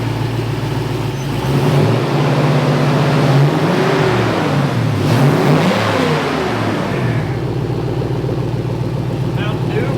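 A car engine, its coolant hoses just reconnected, is started and revved near at hand, the engine note climbing and falling across several seconds before settling into a steady idle.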